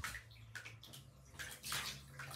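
Water splashes and sloshes as a puppy is bathed in a tub, with uneven bursts of running and splashing water close by and no talking.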